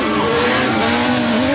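B.F. Goodrich off-road racing tires squeal and skid while a race engine roars, a loud, continuous burst with the engine pitch sliding steadily throughout.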